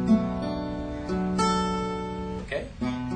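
An acoustic guitar playing a song's chord pattern, picking individual strings then strumming, with clear ringing notes up close and no talking.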